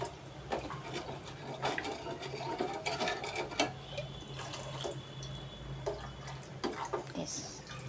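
Water splashes and trickles into a pot of moong dal rasam close by, with clinks and kitchen handling noises over a low steady hum.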